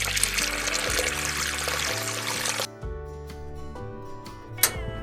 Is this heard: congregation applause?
no